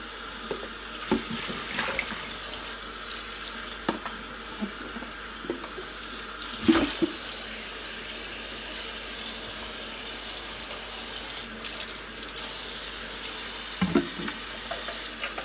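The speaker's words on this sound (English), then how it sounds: "So I'm just going to rinse this out completely." Water runs steadily from a tap while a Bissell SpotClean carpet cleaner's tank is rinsed out at a sink, with a few brief knocks and splashes over the constant flow.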